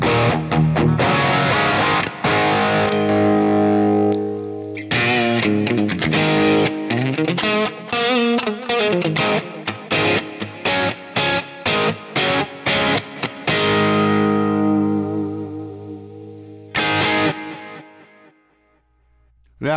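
Electric guitar through a Quad Cortex with a crunchy, distorted rock tone plays sustained chords and choppy rhythmic stabs, loud and close, then rings out and fades.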